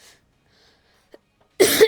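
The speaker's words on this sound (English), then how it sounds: "I have like a coughing problem at the moment." A single short, sharp cough bursts out close up after near silence, preceded by a faint click.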